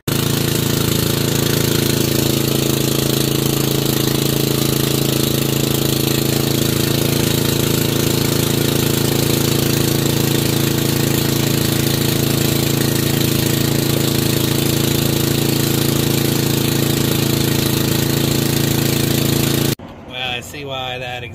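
A Huskee 10hp riding mower engine with a 30-inch deck, freshly unclogged carburetor and loose exhaust muffler, runs loud and steady for about twenty seconds, a continuous droning rumble, then cuts off abruptly near the end.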